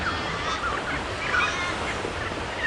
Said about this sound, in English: There's a few friar birds.